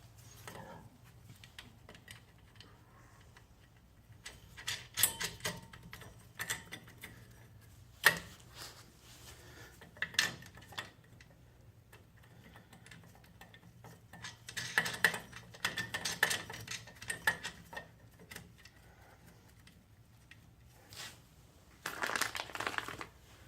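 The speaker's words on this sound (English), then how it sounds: "And then you can hand thread your nuts on." Nuts hand-threaded onto the front brake backing plate of a 1931 Ford Model A Town Sedan: small scattered metallic clicks and scrapes in short bursts, close and quiet, with no talking.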